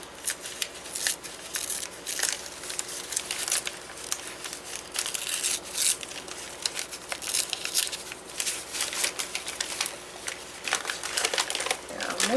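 A paper bag rustles and crinkles as it is handled, a busy run of crackling snaps and crumples, loud and close, going on throughout with no pauses.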